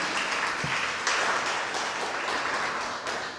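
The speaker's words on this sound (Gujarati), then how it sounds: "આપણે ફરી એકવાર જોરદાર તાળીઓથી વધાવીએ" An audience at a Gujarati book-talk event applauds at the end of a talk, with steady, dense clapping from many hands that carries on evenly for the whole stretch, with no voices over it.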